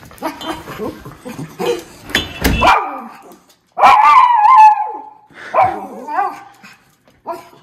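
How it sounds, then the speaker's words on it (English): Several excited dogs bark, yip and whimper in irregular bursts outdoors on a wet day, loud and close, with brief pauses between outbreaks and a few faint human sounds in between. "Crazy dogs."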